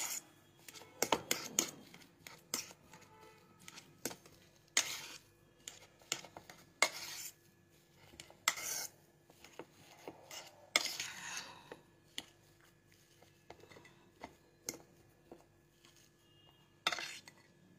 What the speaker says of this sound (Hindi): ये बिल्कुल अच्छे तरह मैश कर लेंगे।